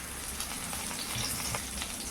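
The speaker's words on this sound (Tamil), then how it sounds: "அரை டேபிள் ஸ்பூன் அளவுக்கு ஜிஞ்சர் கார்லிக் பேஸ்ட் போட்டு நல்லா வதக்கிக்கோங்க" Oil sizzles and crackles steadily in a pan as ginger garlic paste is sautéed, a soft continuous frying hiss close by.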